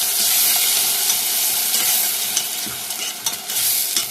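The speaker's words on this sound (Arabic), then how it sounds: "هديها تقليبه كده يا بنات" Chopped medium onion fries in a pan for minced meat sauce, a bright continuous sizzle broken by the scraping of a spoon stirring through it, close and loud with no talking.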